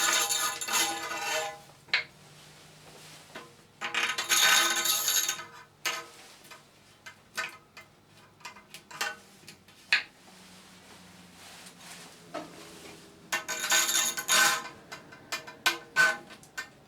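Clear perspex spacer tubes slide and clatter onto threaded bar, giving hollow plastic knocks and scraping rattles in scattered bursts with quiet gaps between them. The sounds are close, with no voices.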